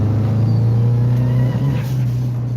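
Subaru WRX engine running with a boost leak, a loud, steady close-up engine hum carrying a persistent tonal whine, with no talk over it.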